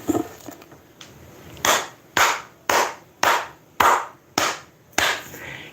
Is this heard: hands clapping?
yes